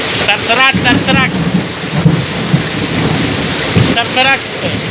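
Heavy village downpour with thunder, a loud constant wash of rain on surfaces with rumbling thunder, while people talk briefly over the storm.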